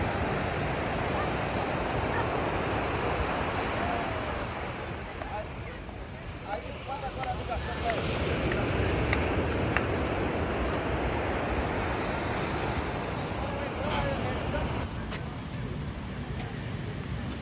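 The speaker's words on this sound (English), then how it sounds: "Beautiful Ipanema Beach." Steady broadband surf and wind at Ipanema Beach in Brazil, a continuous wash of breaking waves with gusty rushes, loud and close throughout with little variation.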